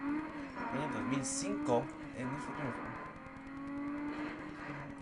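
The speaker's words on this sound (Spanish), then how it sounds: "el sonido del turbo está por ahí, como puede ver, del año 2005 en Need for Speed Most Wanted" Car turbo whistle and engine revving from the racing video game Need for Speed Most Wanted 2005, heard under someone talking in Spanish, with rising engine tones and a sharp burst around the middle.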